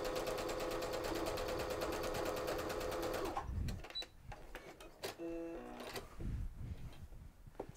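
A sewing machine with a quarter-inch foot stitches quilting lines in a fast, even run for about three seconds, then stops, leaving scattered clicks and light handling noises.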